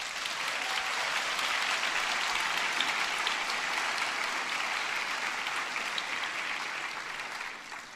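Graduation audience applauding musicians at a winter ceremony, a steady dense wash of clapping from a large crowd that holds for the full length and tapers slightly at the end.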